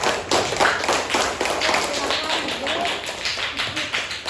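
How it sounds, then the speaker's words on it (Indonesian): Fifth-grade classroom clapping for a student group, quick rhythmic handclaps in patterned bursts from many children close by, filling the space steadily throughout. "Tepuk tangan untuk kelompok 3"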